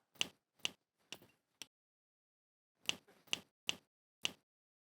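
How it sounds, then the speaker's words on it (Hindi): Crisp finger snaps, four in a quick even run, then a pause of about a second before another four or five follow, all close and sharp in an otherwise silent room. "चुटकी तो बजी नहीं। तो तू बजा दे।"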